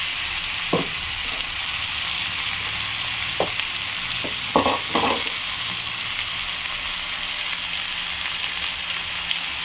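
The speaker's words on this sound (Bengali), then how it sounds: "এবার আমি টমেটো আর কাজুর পেস্টটা দিয়ে দিলাম।" Tomato and cashew paste frying in a pan, a steady soft sizzle throughout with a few scattered spatters and stirring clinks.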